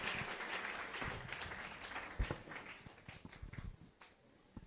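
Faint applause from a church congregation during a service, a soft wash of clapping that gradually thins and fades, with a few louder knocks and thumps mixed in.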